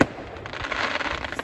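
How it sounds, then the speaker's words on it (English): Fireworks bursting at the end of a field on New Year's Eve, a dense crackling barrage of pops and bangs that carries on steadily throughout, loud and fairly close. "They've literally got fireworks going off right at the end of the"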